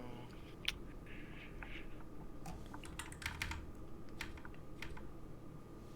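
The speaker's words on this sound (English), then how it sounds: "Now I'm typing." Rapid typing on a computer keyboard, a steady run of light clicks with a few louder key taps, close by and alone against a low background hum.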